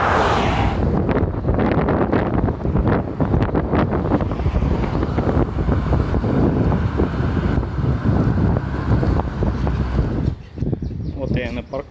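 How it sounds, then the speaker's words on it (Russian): Strong, gusty wind in the UAE buffets the microphone in loud, uneven roaring bursts for most of the stretch, then eases near the end, with a person talking underneath. "Но ветер меня, честно, угнетает."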